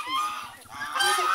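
A turkey gives honking, gobbling calls near a farmyard, sounding in loud bursts across the moment with a second, stronger call toward the end; faint voices sit underneath.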